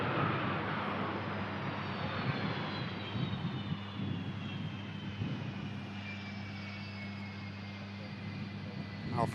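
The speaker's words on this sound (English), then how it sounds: "RB211 sounding wonderful, as is the norm." A 34-year-old Boeing 757 with Rolls-Royce RB211 engines arrives from Barcelona, its steady engine roar and low hum carrying at a distance, with a faint descending whine running throughout.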